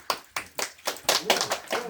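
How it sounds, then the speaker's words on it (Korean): About eight separate hand claps in an uneven rhythm, close and fairly distinct, from a small group gathered at a Korean clan association meeting. "박수 박수."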